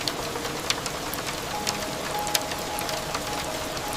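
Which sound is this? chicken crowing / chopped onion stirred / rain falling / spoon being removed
rain falling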